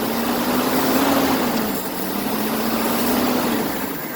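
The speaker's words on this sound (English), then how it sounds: "let me just rev it up a little bit" Engine of a 1983 Toyota SR5 4x4 pickup, a garage find running for the first time, held at a loud steady raised idle with a slight swell in pitch, close and continuous with no talk.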